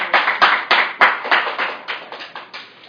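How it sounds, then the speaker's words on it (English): A few people clapping at an alumni career day panel, a sparse run of distinct, fairly close hand claps at an uneven pace that fades toward the end. "Let's give them a round of applause"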